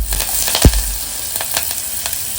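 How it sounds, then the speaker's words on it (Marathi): Onion and curry leaves frying in hot oil for a tempering, a steady close sizzle with brief stirring clatters, no talking. "फोडणीसाठी मी कांदा आणि कढीपत्ता घेतलेला आहे"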